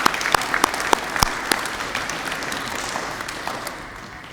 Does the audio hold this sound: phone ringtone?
no